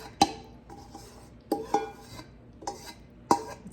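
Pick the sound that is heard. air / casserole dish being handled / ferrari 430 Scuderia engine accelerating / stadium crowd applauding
casserole dish being handled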